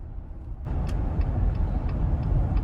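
2021 Jeep Gladiator Sport driving on a test drive, a steady low road and engine rumble from inside the cabin that swells after a soft start, with faint repeating ticks and no talk.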